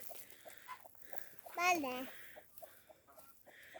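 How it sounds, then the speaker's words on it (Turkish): Chickens cluck softly nearby in a kiwi orchard while a person talks quietly in Turkish. "Burada da tavuk çok."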